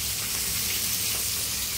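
Pieces of katla fish fry in hot oil in a pan, giving a steady, even sizzling hiss that runs without a break and with no voices.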